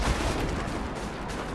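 Weapon fire in the Star Wars Battlefront video game, a dense, steady stream of blasts that stays loud and even throughout.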